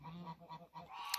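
Geese on a snowy farm give a run of nasal honks, about four rhythmic calls in quick succession, fairly faint and somewhat distant.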